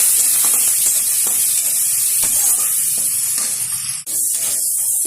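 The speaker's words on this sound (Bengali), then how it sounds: "চিংড়ি মাছটা একটু সুন্দরভাবে ভেজে নেব।" Shrimp fry in hot oil in a pan with a loud, constant hiss and sizzle, broken by a few soft knocks of stirring. The sound dips sharply for a moment near the end, and no one speaks.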